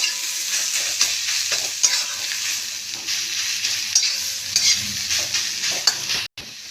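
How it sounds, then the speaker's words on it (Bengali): Grated radish sizzles and fries steadily in a pan while it is stirred, a close, continuous crackle with occasional scrapes and no talking. "এবার এটাকে আমি ভালো করে ভেজে নেব"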